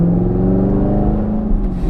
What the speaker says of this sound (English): I hope you guys can hear that AWE exhaust. It sounds so good.